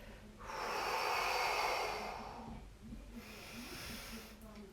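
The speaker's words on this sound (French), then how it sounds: "J'expire en descendant et en rentrant" Steady breath out through the nose and mouth during an abdominal exercise, a long airy hiss close to the microphone, followed by a second, softer exhale.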